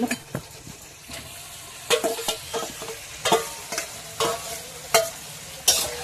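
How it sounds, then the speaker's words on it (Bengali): Marinated mutton tossed into hot oil with softened tomato and stirred, a steady frying sizzle broken by repeated scraping spatula strokes against the pot, close and fairly loud, with no talking. "মাংসগুলোকে ভালো করে তেলের সাথে নেড়ে ফেলে দেবো"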